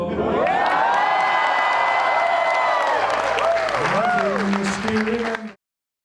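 Audience applause and cheering fill the room at a state dinner after the president sings a short song, dense and loud throughout, with voices and whoops mixed in before it cuts off.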